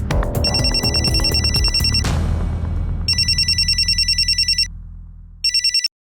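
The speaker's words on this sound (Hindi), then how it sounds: "हेलो," Mobile phone ringtone in a crime drama scene, a rapid warbling electronic ring repeating in bursts over a loud low musical background score, cutting off abruptly near the end.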